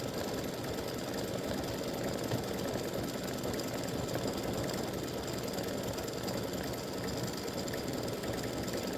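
Embroidery machine stitching a freestanding-lace soccer earring design, a steady close mechanical chatter of rapid needle strokes running evenly throughout without a break.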